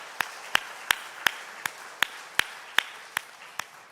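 Worshippers at a Sunday morning church service clap together in a slow, even rhythm, roughly ten crisp claps spaced evenly and heard clearly without talk.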